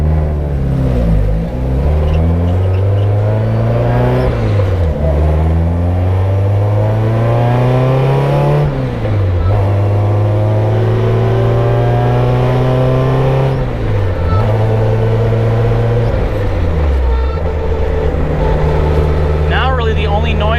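A car engine drones while cruising, with a high differential whine sliding up and down in pitch through repeated gear changes; no speech.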